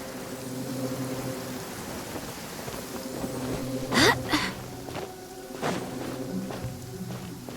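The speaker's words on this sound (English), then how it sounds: "The rain won't slow me down." Rain falling in Genshin Impact, a steady moderate patter over a low hum, with a few louder footstep-like thumps and splashes near the middle.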